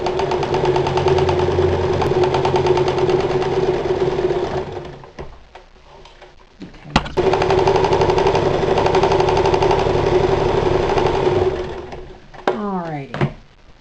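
Close, loud whirring of a sewing machine running along the outside seams of a holiday apron, stopping briefly midway with small handling clicks, then resuming before a final stop and some rustling.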